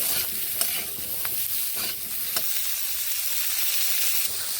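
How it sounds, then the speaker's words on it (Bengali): Cauliflower pieces frying in oil in a pan, a dense close sizzle with a few sharp stirring scrapes across several seconds, no one speaking. "এবার নেড়ে ফুলকপিগুলোকে বেশ ভালোভাবে ভেজে"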